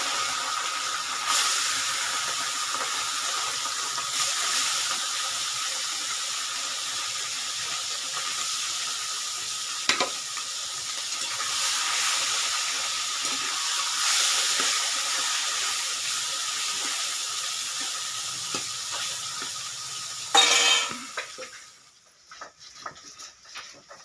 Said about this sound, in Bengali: এখন মাছগুলো ভেজে নিয়েছি, মানে ভেজে নিচ্ছি আর কি